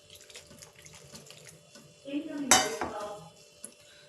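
Cold water is poured into a bowl of flour to mix jowar roti dough in a kitchen, a short splash and trickle after faint clinks of utensils, with quiet background voice.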